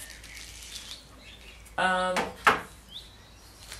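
A newly built greenhouse door swings open and shuts, giving a short creak and a clattering thump, then a sharp bang as it closes, over faint outdoor background with birds.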